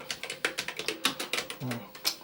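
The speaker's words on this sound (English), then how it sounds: "It'll let you type a line, I think, and then print that out as you're typing almost." Keys clatter at a steady quick rhythm on an Amstrad PCW 8256 word processor keyboard, a close series of sharp clicks with a brief voice murmuring underneath.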